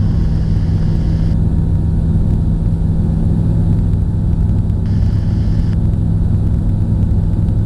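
A training aircraft's engine drones loud and steady inside the cockpit during a solo training flight at about 1,000 feet as power is brought back, a constant low hum with no talk.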